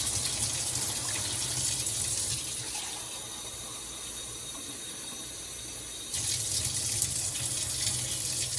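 Hot water pours steadily into a pot of Jamaican-style stewing pork chops, a gushing rush that eases off in the middle and then swells up again.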